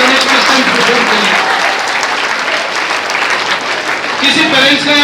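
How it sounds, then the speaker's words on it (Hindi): A room full of people gives children a loud, sustained round of applause after a question session, the clapping dense and continuous throughout with voices mixed in. "एक बार जोरदार ताली बजाओ सब बच्चों के लिए जिन्होंने क्वेश्चन पूछे"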